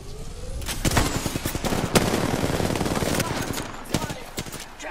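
Bursts of gunfire in the battle-royale game Apex Legends, rapid clustered shots crackling loudly over a few seconds amid game noise, with people talking over the action.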